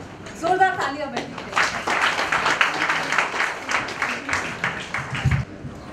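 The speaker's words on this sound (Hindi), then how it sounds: "जोरदार तालियां बजाइए।" Audience applause at an awards ceremony, a burst of clapping following a short spoken announcement, moderately loud and continuing for several seconds before fading.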